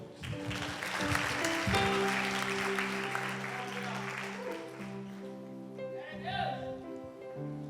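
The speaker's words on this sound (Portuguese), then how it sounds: "Dá mais um aplauso aí." Church conference congregation in Brazil clapping again, a dense burst of applause that swells early and then thins, with sustained musical tones and faint voices underneath.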